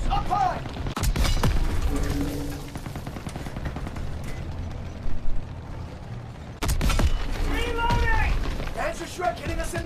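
Battle gunfire in Call of Duty WWII, with scattered shots and sharp cracks under loud shouting voices and a busy rumbling wartime background.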